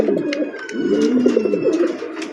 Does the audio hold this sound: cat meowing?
no